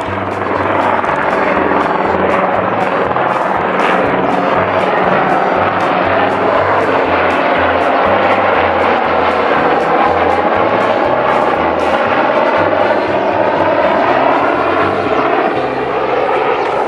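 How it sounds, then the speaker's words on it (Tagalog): A military helicopter flies overhead near a bay with a seaport village, its rotor chop and engine roar loud and steady throughout, with no pause. "Military helicopter."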